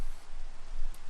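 Steady rain in the Minecraft FTB Infinity modpack hisses continuously as a dense, broadband wash of falling drops, loud and even with slight surges and no other sounds.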